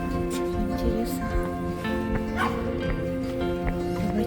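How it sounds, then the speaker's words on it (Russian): Small dogs bark and yip repeatedly in a churchyard at Holy Trinity Church in Falkirk, the sharp barks rising over a steady hum and background noise. "Собачонка. Не одна."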